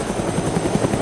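A helicopter engine runs in the DayZ Origins video game, with a loud, steady, close rotor thrum pulsing rapidly throughout.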